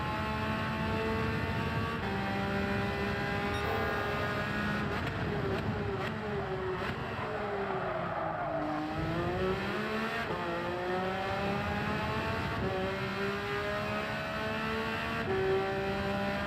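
Race car engine in Gran Turismo 7, a steady high-pitched whine that climbs and falls with throttle and gear changes, dipping low near the middle before revving back up, loud and continuous with no talk.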